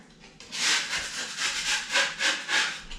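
Scraping of a knife over a drywall corner bead to clear off debris before a thin coat of compound, a close series of rasping strokes in a steady rhythm, loud and alone.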